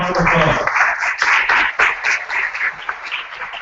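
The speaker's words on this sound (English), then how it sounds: "Give it a round of applause." Crowd at a bootcamp event applauding, clapping at moderate loudness that thins out toward the end, with some voices mixed in.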